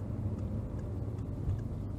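A Citroën C6's engine hums steadily while driving, a low, muffled drone with no talk over it.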